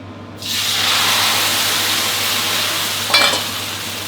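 Wide rice noodles sizzle and hiss loudly in hot oil in a wok as they're stir-fried, a steady crackling fry with a brief clatter near the end.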